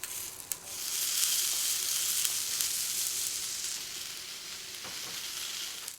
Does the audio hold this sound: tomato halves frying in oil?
yes